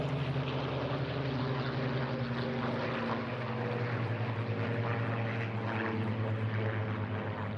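A propeller display aircraft drones steadily overhead at the Eastbourne International Airshow during a tail chase, its engine note sustained and moderately distant throughout, with no talk.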